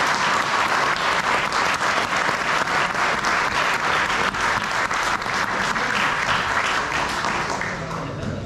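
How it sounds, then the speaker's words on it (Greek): At a gathering of veteran footballers in Piraeus, an audience claps loudly and continuously for former player Nikos Sarkanis. The thick applause keeps an even level throughout and tapers only at the very end. "Το θερμό σας χειροκρότημα στον Νίκο Σαρκάνη."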